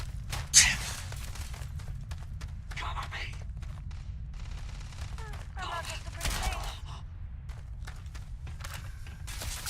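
Shotgun blasts in the video game Starfield, a few scattered sharp shots and impacts amid game noise, with someone talking under and between them.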